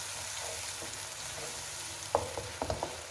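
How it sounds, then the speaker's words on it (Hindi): Tomato, garlic and ginger paste frying in a pan, a steady soft sizzle with a few scraping knocks of stirring near the end, quiet and close. "हिला देंगे इसको अच्छे से।"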